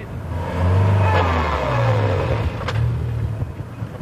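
A car engine revs hard while the car works its way out of deep sand in the Sahara, with surging, droning waves of throttle rising and falling across the clip, close and loud over a steady rumble.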